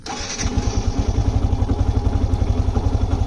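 A Yamaha FZ V2 motorcycle engine with about 100,000 km cranks and catches, then settles into a fast, steady idle putter, loud and close.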